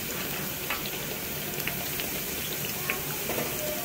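Peshawari chapli kebabs fry in hot oil, giving a steady, soft sizzle and crackle with scattered small pops, continuous and fairly quiet, with no voices.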